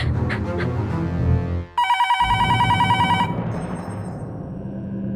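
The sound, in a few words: telephone ringing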